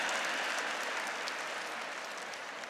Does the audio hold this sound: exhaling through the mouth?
no